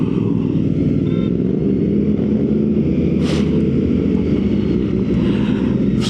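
A motor vehicle hums loudly and steadily throughout, with constant engine drone and wind rush close by and no talking.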